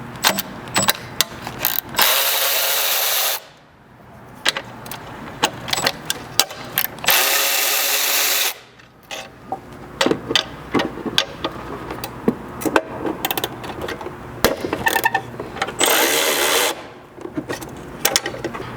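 Ratchet and socket work on the nuts of a rear blind spot sensor bracket on a 5th gen Toyota 4Runner, with repeated bursts of clicking and sustained ratcheting spells close by, no talk.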